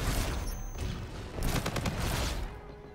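A Titan light machine gun in Call of Duty: Infinite Warfare fires in a dense, sustained roar of overlapping shots that swells in the middle, loud and close, with no talking over it.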